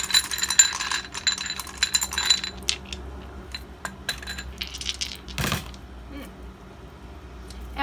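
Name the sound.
dice being shifted around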